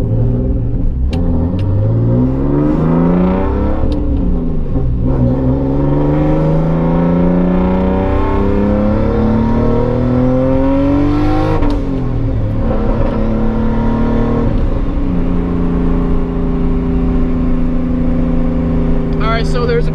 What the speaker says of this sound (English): I can hear that turbo spool again.